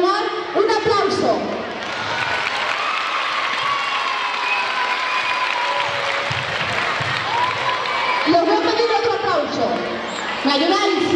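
Audience applause for local police officers at a school road-safety festival with over a thousand schoolchildren, a big crowd clapping steadily for several seconds with some shouting and cheering mixed in, amid a lively outdoor crowd.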